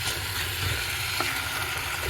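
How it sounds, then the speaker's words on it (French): Chicken pieces browning in a little salted butter in a camper-van kitchen, a steady close sizzle and crackle of frying with small pops, no voices. "j'ai mis une petite noix, comme j'ai pas mis trop d'huile, de beurre demi-sel. Alors je les laisse dorer"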